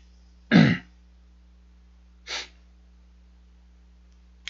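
One sharp, close sneeze bursts out, followed about two seconds later by a second, softer sneeze or sniff, with near silence around them and no talking.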